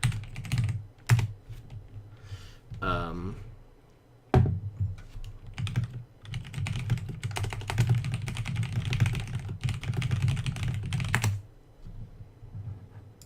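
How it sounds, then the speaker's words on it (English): Rapid typing on a computer keyboard during a game stream, dense clattering keystrokes in bursts with brief pauses, fairly close and steady over a low background hum. "Talking while I'm typing is so hard."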